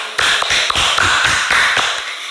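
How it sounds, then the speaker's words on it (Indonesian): A small group claps together at the close of a group counseling session. The clapping is a dense, uneven patter of sharp claps lasting about two seconds. It is close and fairly loud, with no talking. "Tepuk tangan dulu untuk kita semua."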